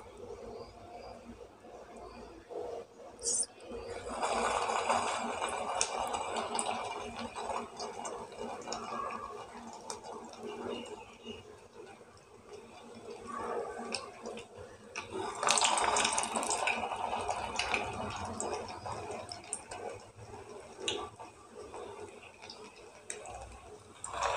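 Chicken bread rolls frying on low heat, a soft continuous bubbling sizzle that swells in two louder stretches, with faint talk in the background.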